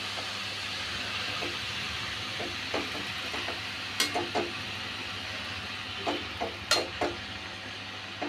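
Washed, drained greens for malai saag are stirred into spices in a kadai, giving a steady low sizzle broken by scattered scraping strokes of the spoon.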